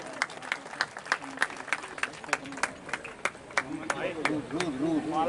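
Scattered clapping from a small crowd, irregular claps over a murmur of voices and a speaking voice near the end.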